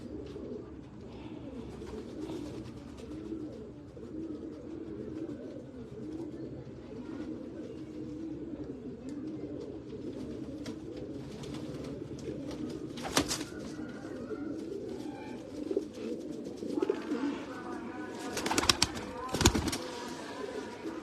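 Pigeons kept by a breeder in Faisalabad coo in low, steady murmuring throughout, close by, with a few brief sharp knocks or wing flaps near the end.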